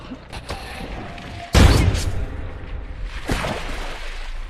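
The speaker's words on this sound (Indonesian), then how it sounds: "dan mereka semua mendengar suara tembakan itu" A sharp, loud blast hits suddenly, followed by a lingering rumble, then a second, weaker crack a couple of seconds later.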